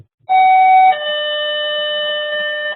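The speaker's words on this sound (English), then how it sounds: "the more annoying alarm system" An emergency call system sounds its harsher alarm tone: a loud, steady electronic wail that begins abruptly, shifts to a different pitch about halfway, then holds until it cuts off. No voices are heard.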